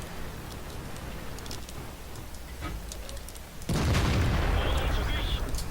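STB-1 tank cannon fire in a tank battle game: light clicks and distant thuds at first, then a heavy, loud boom that carries on as sustained rumbling for the rest.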